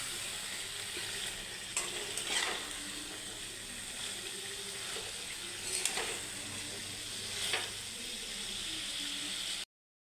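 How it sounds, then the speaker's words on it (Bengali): Dal chorchori sizzling in a pan with a raw spice tempering, steady frying hiss throughout with occasional stirring scrapes, close and alone. "এটাকে এখন সুন্দরভাবে আবার কষিয়ে নেব।"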